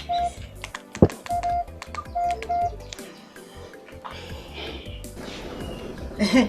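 Phone keypad tones beep in short bursts as a number is dialed, followed by a ringing tone, with people talking nearby.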